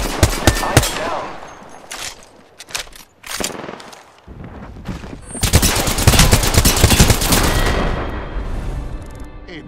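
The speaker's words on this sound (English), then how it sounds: "The enemy is shooting at me." Apex Legends gunfight: loud close bursts of automatic gunfire, sharp separate shots early, then a sustained rattling volley with booms trailing off, no talking.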